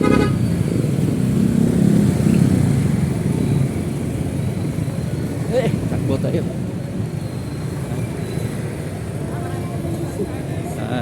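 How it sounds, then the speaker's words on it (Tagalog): Big truck on the road, a loud continuous low engine rumble and traffic noise close by throughout, with people talking over it. "may malaking truck talaga"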